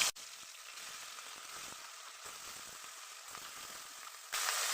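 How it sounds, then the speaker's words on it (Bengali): Paisa fish frying in hot oil in a wok, a steady, dense sizzle holding evenly for several seconds, briefly louder toward the end, with no talking. "কড়াইতে তেল দিয়ে দিলাম, গরম হয়ে গেছে। এবার একে একে আমি মাছটা দিয়ে দেবো"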